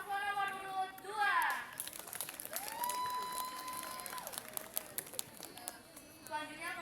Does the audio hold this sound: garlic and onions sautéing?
no